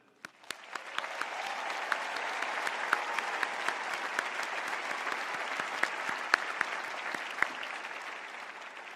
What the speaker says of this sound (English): please join me in an intentional moment of applause for them.